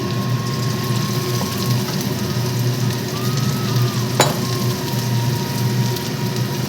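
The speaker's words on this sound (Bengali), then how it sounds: "এক এক করে এবার সব চিকেনগুলো ভেজে নিই" Chicken pieces deep-frying in white oil for chilli chicken give a steady, close crackling sizzle like dense rain, with a faint tonal whine and one sharp clink partway through.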